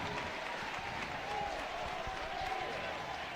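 Crowd at an Auburn versus Arkansas college baseball game sending up a steady, distant roar of cheering and clapping behind a full count, continuous and moderately faint, with a commentator's voice heard over it.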